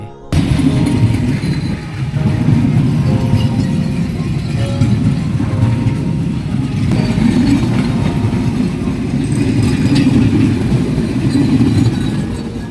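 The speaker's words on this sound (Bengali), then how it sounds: "আমাদের ট্রেন কিছু সময় ক্রসিংয়ে পড়ে খুলনা থেকে চিলাহাটিগামী সীমান্ত এক্সপ্রেসের সাথে" A passenger train runs steadily along the track in Bangladesh during a crossing stop with the Khulna–Chilahati Simanta Express, a continuous close rumble of wheels and carriages with faint rattling throughout, no voices.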